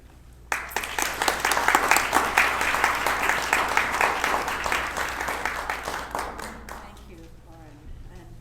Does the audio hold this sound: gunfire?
no